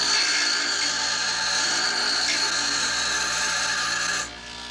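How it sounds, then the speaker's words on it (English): An old power grinder smooths the surface of a sculpture with a steady, loud, continuous abrasive whine that holds evenly for several seconds, then cuts off abruptly near the end. "I'll use my old grinder here."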